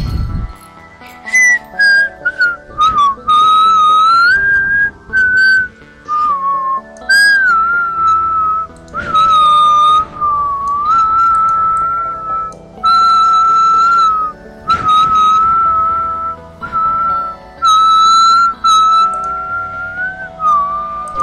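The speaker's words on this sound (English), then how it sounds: "Sorry about my whistling." A person whistles a wandering melody, loud and close, in long sustained phrases broken by short pauses, with faint game sounds beneath and no speech.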